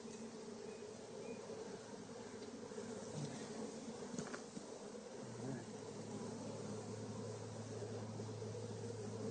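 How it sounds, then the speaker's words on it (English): Honey bees buzz inside a crowded hive box, a steady, droning hum of many insects close by, fairly quiet overall, with a brief soft voice-like murmur partway through. "So that lower box is about to explode with bees"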